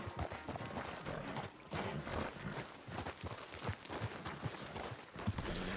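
Horse hooves in the video game Red Dead Redemption 2, a run of soft irregular clip-clop steps at moderate distance, quiet and continuous throughout.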